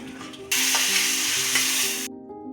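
Onion tempering hits hot ghee for a Mangalore-style mutton gasi and bursts into a loud, steady sizzle that lasts about a second and a half before cutting off, over soft background music.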